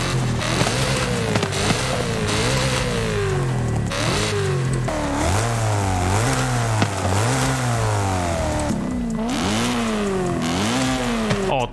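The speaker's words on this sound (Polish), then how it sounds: "posłuchajmy, jak brzmi z różnymi wydechami" A car's engine revs loudly and continuously in Forza Horizon 5, fitted with an aftermarket exhaust, grille and underbody intake, rising and falling through repeated throttle blips and gear changes with no talking over it.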